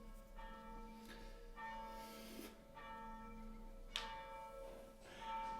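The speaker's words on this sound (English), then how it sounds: "Here goes the bells." Church bells ring in slow succession, each resonant strike decaying into a lingering hum, fairly faint with steady background noise beneath.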